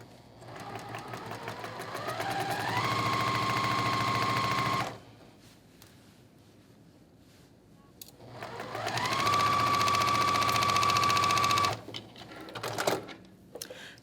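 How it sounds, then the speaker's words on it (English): An electric sewing machine fitted with a quarter-inch foot stitches a quarter-inch seam on quilt blocks, running in two steady whirring bursts of about four seconds each, separated by a quiet pause. "I have my 1/4 inch foot on my machine, and I'm just gonna stitch with a 1/4 inch seam"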